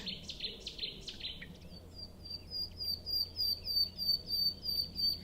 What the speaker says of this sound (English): that is what we often hear in the woods behind me at the moment, and it is glorious